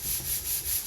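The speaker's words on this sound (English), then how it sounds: "just very lightly sand those down to where they're nice and smooth." Light, rhythmic sanding strokes rasp back and forth over small model rocket parts, about four passes, close and soft.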